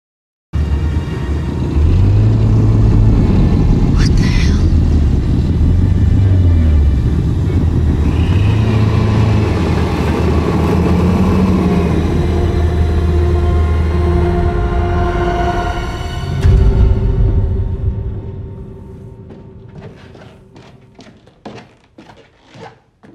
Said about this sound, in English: they have that truck, that creepy truck that's doing who knows what